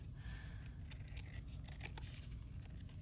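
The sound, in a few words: scissors trimming paper flower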